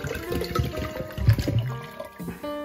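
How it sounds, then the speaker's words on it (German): Cold water poured into a clean glass jar for homemade tonic water, a steady splashing pour with a rising gurgle as the jar fills, close and fairly loud, ending in a brief settling trickle. "in das Glas kommt jetzt 1 Liter Wasser,"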